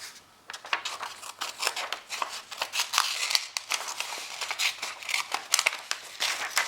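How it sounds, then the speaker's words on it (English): A series of small, crisp snips from the mini scissors of a Victorinox pocket knife, irregular in rhythm, with faint crinkling between cuts; close and fairly quiet. "You got your little mini scissors."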